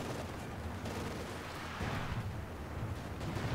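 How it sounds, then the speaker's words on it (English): Anti-tank guns firing on a Panther tank in the Company of Heroes 2 battle game, rendered as a dense, continuous rumble of distant gunfire and explosions that swells slightly midway, with no voices. "Probably this Panther ran into the anti-tank guns."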